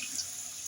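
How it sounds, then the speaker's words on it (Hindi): Water pours steadily into a pot of aloo gosht curry, a soft continuous hissing trickle heard up close for a brief moment. "ये देखिए पानी लगा रहे हैं"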